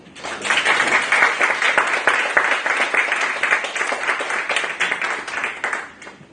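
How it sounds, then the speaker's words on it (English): A conference audience at a business school HR conclave gives a round of clapping, dense and fairly loud, swelling quickly and tapering off toward the end. "I believe our speakers deserve another round of clapping."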